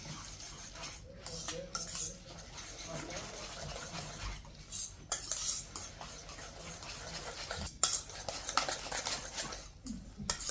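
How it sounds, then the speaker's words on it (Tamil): A spoon clinks and scrapes against a bowl while chopped onion and egg are mixed in a home kitchen, giving irregular taps and stirring sounds, with people talking quietly in the background. "இதை நல்லா மிக்ஸ் பண்ணிக்கலாம்."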